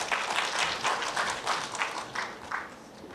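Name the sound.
audience applause welcoming speaker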